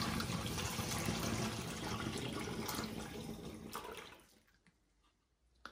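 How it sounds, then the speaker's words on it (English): Sticky sugar water pours into a glass demijohn in a steady rushing gush that tapers off and stops near the end, followed by quiet and a small clink. "So now I add my sugar water into the demijohn."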